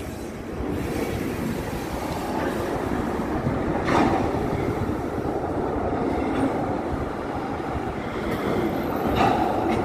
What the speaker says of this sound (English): He's connecting some oil tanker.